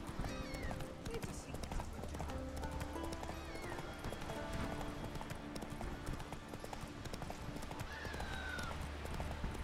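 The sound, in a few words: hooves of Geralt's horse Roach in The Witcher 3 video game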